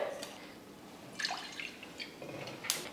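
Water poured into a kadai for kozhukattai dough, heard as close, scattered splashes and dripping trickles with short bursts against a quiet kitchen background.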